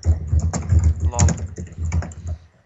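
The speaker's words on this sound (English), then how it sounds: "Can you please stop typing?" Fast clattering keystrokes on a computer keyboard tap in quick irregular bursts, close and fairly loud, with a voice talking over them during a RuneScape session.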